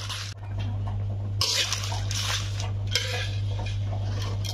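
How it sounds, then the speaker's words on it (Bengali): Dry red chillies are stirred and fried in a hot kadai for homemade fuchka spice mix, with close scraping and clinking of a utensil against the pan over a low steady hum, no talking. "এখানে একটা গরম কড়াইতে শুকনো মরিচ ভেজে নিচ্ছি।"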